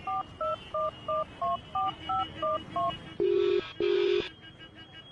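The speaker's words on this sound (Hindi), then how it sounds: "मिनी ने उस नंबर को अपने फोन से कॉल किया।" A phone number is keyed in on a mobile phone, giving a quick run of about eight distinct dialing tones, then two longer, lower tones. The sequence is clear and close over a faint background hiss.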